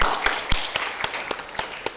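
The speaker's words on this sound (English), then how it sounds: "you can get an applause from the audience" An audience at a sustainability conference claps in a steady, evenly spaced rhythm, with sharp, crisp hand claps landing about four times a second at moderate loudness.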